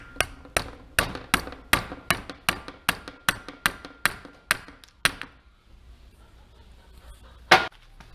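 A hammer taps the gas inlet tube back into its hose on a Yamaha Blaster engine, with about a dozen sharp, evenly spaced strikes close by. A pause follows, then one last louder knock.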